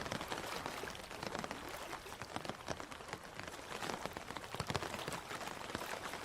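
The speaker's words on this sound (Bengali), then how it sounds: "আর সঙ্গে প্রবল বৃষ্টি আর বাতাসের শোঁ শোঁ শব্দ।" Heavy rain effect for a Bengali horror story: a dense, continuous patter of drops on a surface, steady and fairly quiet throughout, with no distinct wind gusts standing out.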